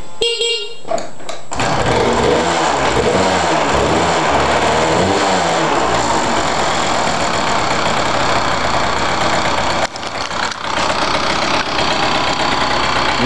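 A 1996 Yamaha DT200R two-stroke motorcycle engine, started cold, catches after a few kicks and settles into a loud, close, buzzing idle with a fast, uneven rhythm, briefly dipping near the end.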